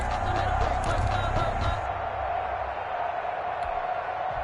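Crowd noise in a football video game swells as a big third down approaches, a steady roaring wash that fades slightly partway through, heard alone without commentary.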